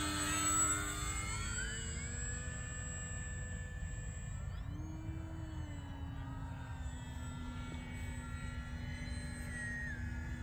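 An FMS Maule RC model airplane with floats makes a speed pass, its electric motor a steady buzzing drone that rises and shifts pitch midway as it flies past, heard alone at moderate distance.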